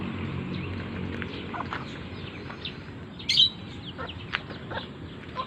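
Scattered short chirps from a pet bird over a steady low rumble of background noise, with a brighter, louder call partway through.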